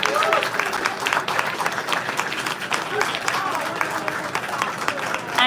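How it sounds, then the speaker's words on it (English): A crowd at the launch of the Mark V SkyTrain applauds some artwork, continuous clapping mixed with scattered voices talking over it. "let's give a round of applause for these beautiful pieces of artwork"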